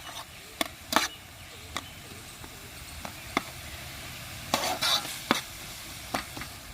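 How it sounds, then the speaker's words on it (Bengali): Ground coriander, cumin, red chilli and garam masala cook in a pan for a dahi baingan dish. A soft, steady sizzle runs throughout, broken by sharp, scattered scrapes and taps of a spoon stirring close by. "এবার মশলাগুলোকে ভালো করে সেদ্ধ করতে হবে"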